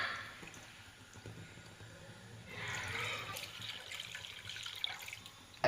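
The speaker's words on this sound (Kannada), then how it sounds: "ಇವಾಗ ನಾವು 1 ಲೀಟ್ರಷ್ಟು ಹಾಲನ್ನು ಸುರ್ಕೊಳ್ಳೋಣ." Milk poured into a pan rinsed with a little water, a steady close liquid stream that swells midway and runs continuously without talk.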